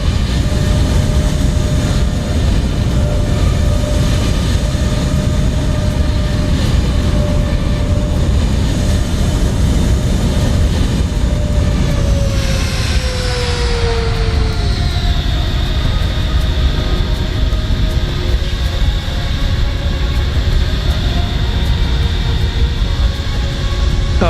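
An F/A-18F Super Hornet taxis at Meiringen Air Base in Microsoft Flight Simulator, with a loud, continuous jet engine whine whose pitch slides downward partway through before settling into a steady roar.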